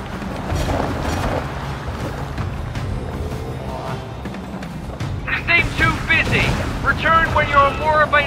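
Bombs burst on a barge in the flying combat game The Falconeer, deep booming blasts rumbling over steady engine and water noise, with a cluster of sharper crackling impacts near the end and a voice speaking over the mix.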